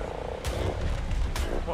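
Frog creature attacking the player in the video game ARK Aberration, heard as two sharp hit bursts over a low croaking, rumbling game background with no voices.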